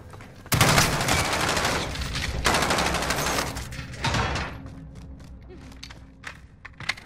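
Bursts of automatic gunfire in Call of Duty's Gulag arena, loud rapid volleys in the first half that fade to scattered single shots, with players talking over parts of it.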